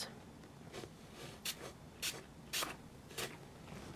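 Short bursts of Distress Spray Stain ink in Kitsch Flamingo, sprayed close by during papercraft work: four or five quick hissing spritzes of about a quarter second each, spaced roughly half a second apart over quiet room tone.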